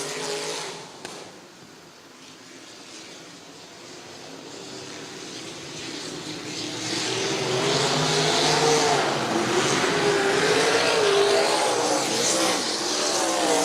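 Race cars roar around the Bethany Speedway oval, a continuous loud engine drone that swells and grows closer over the second half, with no voices.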